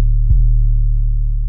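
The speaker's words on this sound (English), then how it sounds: "Then for the 808, we're going to be using this pretty common 808." A common 808 bass sample for the beat, a single deep booming hit with a quick pitch drop at the start, then a long sustained low hum alone.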